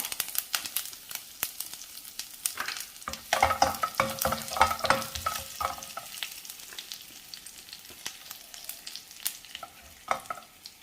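Curry leaves sizzle in hot oil in a pan while being stirred for a jackfruit seed thoran, with steady close frying crackle and repeated scraping stirs, louder bursts in the middle, and no talking.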